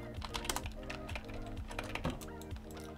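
Rapid, steady clatter of keys on a computer keyboard as a command is typed for a game server, dense and continuous over a music bed with no speech.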